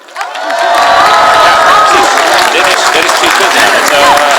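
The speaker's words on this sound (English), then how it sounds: "Please give him a big applause." A crowd at a Tibetan commemoration gathering cheers and applauds loudly, with continuous dense clapping, shouts and a few whistles swelling in quickly and holding steady for several seconds.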